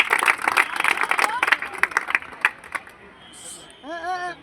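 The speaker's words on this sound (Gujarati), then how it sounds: "એના માટે તાળીઓ પાડો." An audience at a Gujarat Titans cricket event claps for Rashid Khan, a short burst of brisk applause that thins out and fades, with speech toward the end.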